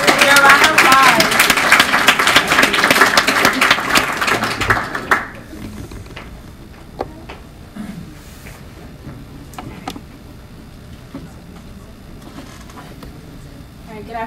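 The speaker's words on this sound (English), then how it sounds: "Kira, round of applause." Audience applause at an event, a loud burst of crowd clapping for about five seconds that fades out, leaving a quiet room with scattered taps and small noises.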